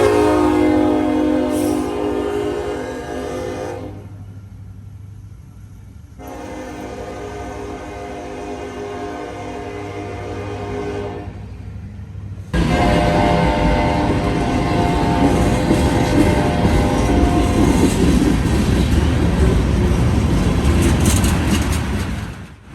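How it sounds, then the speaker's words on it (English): An EMD locomotive in notch 8 hauls a freight train uphill, its heavy diesel drone steady for the first half, then a much louder, rougher roar of the engine surging near by for the final ten seconds. "This is the sound out of all the locomotives that I love to hear, an EMD in notch 8 going uphill."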